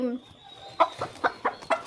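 A black Sultan hen clucks in a quick series of short, rhythmic clucks, close and clear, after a brief higher call at the start.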